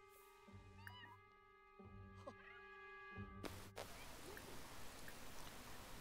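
A cat in The Sims 4 life-simulation game meows several times, short rising calls over steady game music, before a burst of rain-like hiss takes over the second half.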